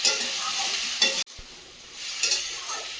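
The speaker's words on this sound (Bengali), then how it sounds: "তরকারিটা বেশ ভালো করে কষিয়ে নিতে হবে" Curry being sautéed and stirred in a pan, a steady close sizzle with two louder scraping stirs and a brief pause midway.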